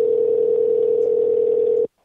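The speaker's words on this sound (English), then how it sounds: "She hung up." A telephone dial tone hums loud and steady after a call is hung up, then cuts off abruptly into silence near the end.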